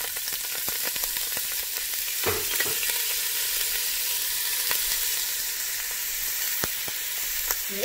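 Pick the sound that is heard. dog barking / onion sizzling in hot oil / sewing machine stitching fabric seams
onion sizzling in hot oil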